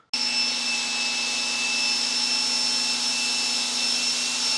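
Ryobi pressure washer spraying soap through a foam cannon, a sudden onset into a steady, loud hissing spray with a constant tonal whine, running unbroken throughout.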